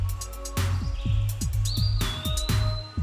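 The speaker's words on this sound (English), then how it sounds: "These colorful birds are vocal, gregarious, and highly social." Colorful tropical parrots give repeated bright chirps and calls, with a rhythmic series of clear, close notes and a higher whistled call, heard alone without speech.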